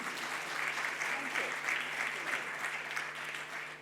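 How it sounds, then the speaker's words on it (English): Audience applause at a comedy talk, a steady wash of clapping lasting several seconds, with faint voices mixed underneath. "Give her a round of applause."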